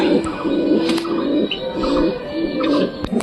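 Pigeons coo repeatedly in a coop, a steady run of low, soft throaty calls close by, with a few faint clicks and rustles in the background.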